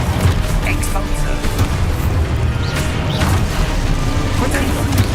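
Expulso spell explosion in Hogwarts Legacy combat: a loud booming burst within continuous, dense battle noise that stays steady and heavy throughout.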